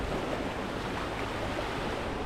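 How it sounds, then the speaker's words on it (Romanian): Wind roars steadily and loudly across the microphone on a Caribbean shore, a constant rushing noise with no voices. "Cred că bate vântul și nu o să auziți nimic."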